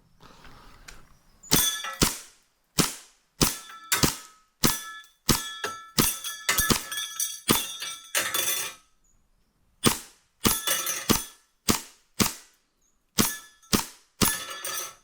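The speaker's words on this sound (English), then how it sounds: "let's test a 400 FPS gas MP7 to see if that changes things" Gas-powered 400 FPS airsoft MP7 firing at targets: bursts of sharp, loud cracking shots in rapid strings, separated by short pauses, with no talking.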